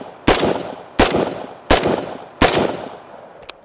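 A rifle fired four times at a target at an even, slow pace, each loud, sharp report followed by a ringing tail, then a faint metallic clink.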